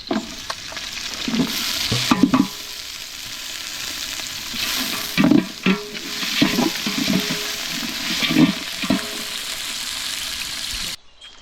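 Green chilies, onion and carrot fry in a pan for veg biryani, a constant sizzle broken by repeated spoon scrapes and stirring clatters at irregular intervals.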